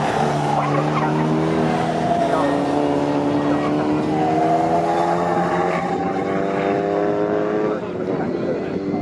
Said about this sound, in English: As part of the second gaggle of these pre-66 cars, Paul.